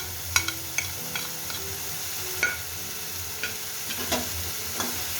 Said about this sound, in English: fry the masala till it leaves oil